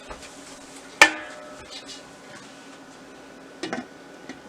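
A lid is set on a pan of fried MTR gulab jamun with a single sharp metallic clink that rings briefly, followed by near silence and a few faint kitchen knocks.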